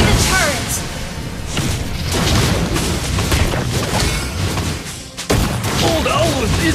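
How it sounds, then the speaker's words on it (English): In the mobile game Mobile Legends, a turret is destroyed with heavy booming blasts and thuds over a constant clatter of battle effects, with a brief dip near the end before the noise surges back, and a voice talking over it. "You destroy the turret."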